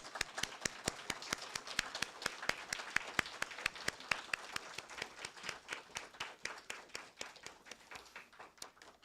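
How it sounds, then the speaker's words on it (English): A congregation at a Buddhist temple's Scout Sunday service applauds scouts, producing dense, steady clapping from many hands at close range that keeps going and thins slightly toward the end. "Let's all give them a round of applause"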